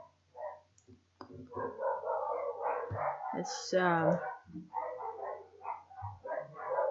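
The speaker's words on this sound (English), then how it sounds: "Dogs are barking." Dogs bark outside a house, several barks faintly mixed in behind someone speaking close up throughout.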